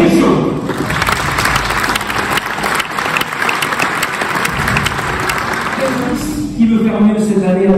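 A crowd applauds for a Vendée Globe sailing skipper at a candidate presentation, sustained loud clapping that fades near the end as a voice begins speaking.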